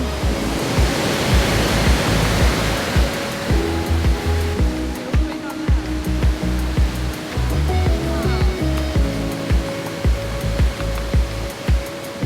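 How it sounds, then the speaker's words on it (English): A powerful waterfall roars as a steady, loud, dense rush of falling water, with faint voices now and then beneath it. "What an amazing waterfall. That was so powerful."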